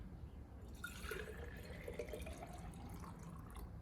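Water poured steadily into a container for a plate-and-doily inertia demonstration, a continuous close liquid rush with a rising fill tone across the whole few seconds, no voices.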